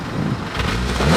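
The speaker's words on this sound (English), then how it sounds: "I'm about to rev right now." A Volkswagen Golf R fitted with a Milltek exhaust revs in a neighborhood, a short rising engine note held close and fairly loud, limited to about 3,000 rpm.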